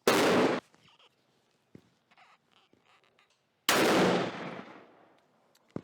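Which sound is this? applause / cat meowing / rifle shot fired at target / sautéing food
rifle shot fired at target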